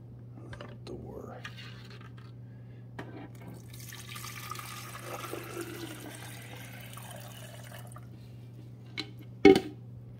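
Water splashes and trickles steadily into a Mr. Coffee iced tea maker for several seconds, with faint voices and a low hum underneath, ending in a sharp clunk.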